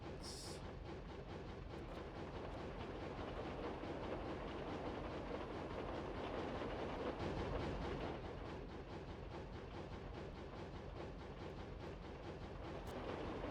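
A very long train runs steadily in the game Roblox, giving a continuous rumbling drone with faint repeated clicking from the rails, even in loudness throughout.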